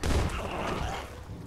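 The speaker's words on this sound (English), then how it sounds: "That's what a real shotgun is all about." A shotgun fires in the Fallout 4 VR game, one heavy, booming blast up close that decays into a rough rumbling tail.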